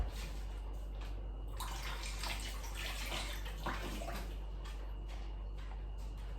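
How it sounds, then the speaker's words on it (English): Soaking water poured off raisins into a sink, a steady splashing and trickling stream that runs the whole time, close and fairly loud, with a few gurgles and drips. "I'm just going to drain off that water."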